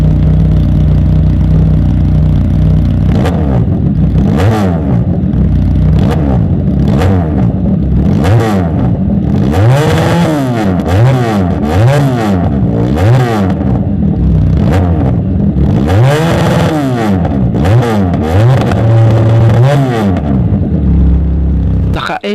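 A budget two-cylinder motorcycle styled after the BMW S1000RR is revved again and again close by. Each loud throttle blip rises and falls in quick succession over a steady idle rumble.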